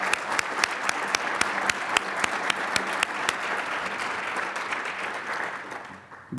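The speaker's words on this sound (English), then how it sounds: "Please join me in giving these exceptional students a round of applause" A Penn State board of trustees audience applauds students in a steady, dense burst of clapping, with a few sharp individual claps standing out rhythmically before the applause thins and fades near the end.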